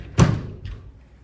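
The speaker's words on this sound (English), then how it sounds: "these are sliding doors" A hotel room's sliding door in a Chicago river-view king room closes with one sharp thud, followed by a softer second knock as it settles.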